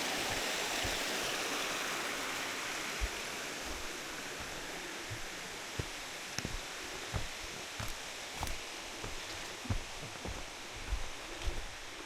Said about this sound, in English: So here's your waterfall.